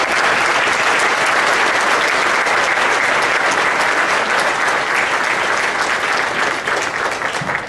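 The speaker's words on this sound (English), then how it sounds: "can we please give a round of applause" Dense, loud applause fills a room at a Republican governor candidates forum in Mounds View, a thick, even wash of many hands clapping that holds steady throughout and thins only slightly at the very end.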